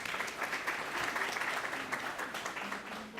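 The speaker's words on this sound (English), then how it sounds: "I want to applaud you for that" Audience applause at a closing ceremony, a dense, even wash of clapping heard from a distance and fairly faint, lasting a few seconds.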